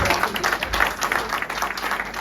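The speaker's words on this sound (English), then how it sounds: "I think we need a better hand of applause for the" Applause from a marriage seminar audience, a steady dense patter of many hands clapping at once, fairly close and even in level, with no talk over it.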